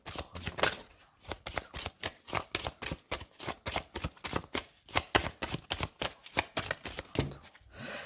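Oracle cards for a zodiac reading being shuffled close up, a fast run of crisp riffling flutters and soft slaps repeating steadily without pause, with no talking.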